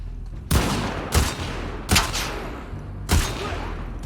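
Four heavy gunshots boom at irregular intervals in a shooter game, The Last of Us Part II, each loud and close with a brief decaying echo over a dim ambient bed.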